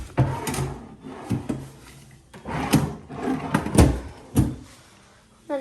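Wooden drawers in a Disney Copper Creek Villas deluxe studio room slide open and shut several times, with close scraping runners and soft knocks in an irregular rhythm, and nobody talks.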